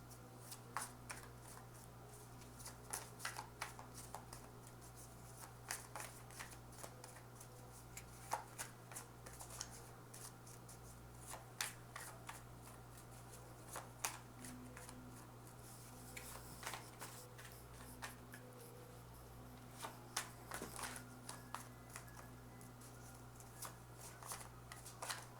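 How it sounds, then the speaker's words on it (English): Tarot cards being shuffled by hand in a quiet room, giving soft, irregular riffling and flicking bursts over a steady low hum, with no talking. "Do two more shuffles, and then we'll just cut the deck."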